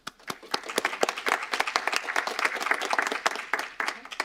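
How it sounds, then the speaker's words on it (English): A town council meeting audience gives a short round of applause, dense scattered claps from a modest crowd swelling and then tapering off over a few seconds, fairly close and alone without talk. "A really round of applause for everyone behind the scenes"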